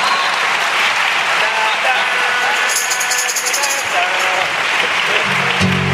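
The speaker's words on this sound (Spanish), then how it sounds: "Un aplauso a Rocky del Media Maera." Loud, dense audience applause fills the whole stretch with steady clapping, mixed with voices and cheers from a crowd at a Spanish-language live comedy show.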